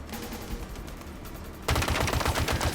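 Spiker weapon in Halo Infinite, quieter rattling shots at first, then a sudden louder burst of rapid, evenly spaced automatic fire that runs through the rest.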